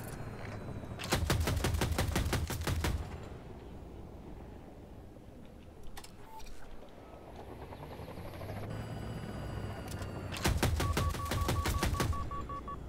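Automatic gunfire in the video game Battlefield 2042 comes as two loud, rapid bursts near the start and end. Quieter, scattered shots and rumbling battle ambience fill the gap between them.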